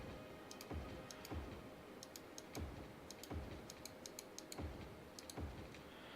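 Mouse clicking during play of a city-building game, a series of faint, sharp clicks at irregular intervals over a low steady background.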